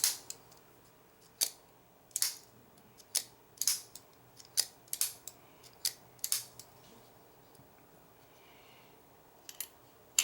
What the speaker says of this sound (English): the way you open this one is just with the flipper